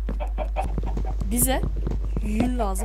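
Chickens cluck in the Minecraft video game, giving short rising clucks at a steady pace under continuous talk and a constant low hum.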